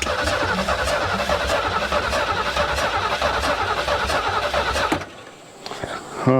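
A 1973 Ford Mustang Mach 1 engine cranks without catching, a loud continuous churning of the starter that runs steadily for about five seconds, then cuts off into a quieter pause before a brief rise at the end.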